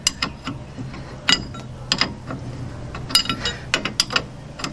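A wrench loosening the spindle nut on a VW Beetle during a drop spindle swap: a series of close, sharp metallic ratchet clicks and clanks in irregular bursts, with no talking.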